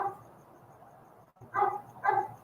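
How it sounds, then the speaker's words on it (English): Dogs bark outdoors in nature, two distinct woofs arriving in quick succession after a stretch of faint background yapping, moderately distant and alone without talk. "The dogs barking."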